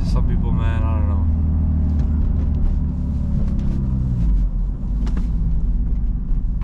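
A turbocharged G35 coupe cruises along a road on the way to work, its low engine drone and road rumble steady and close from inside the cabin, with a voice talking over it.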